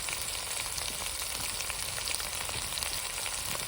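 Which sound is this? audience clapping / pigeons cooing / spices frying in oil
spices frying in oil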